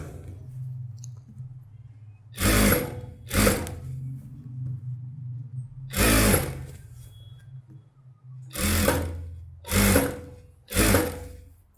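A sewing machine stitches a blouse neck piece in short loud bursts, about six runs of whirring motor separated by pauses, with a low hum in between.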